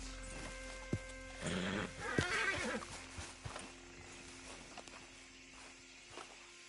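A horse in the Western video game Red Dead Redemption 2 gives a brief whinny amid a few hoof clip-clops and footsteps, fairly close over a low background hum.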